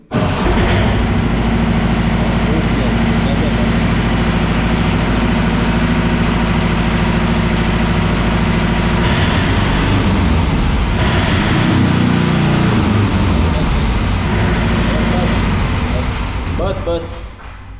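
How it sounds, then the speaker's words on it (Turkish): A car engine being cranked with the starter and running during a battery and starter test, a loud steady low rumble throughout with a brief change in tone midway, while people talk over it. "Marş basit deneyelim."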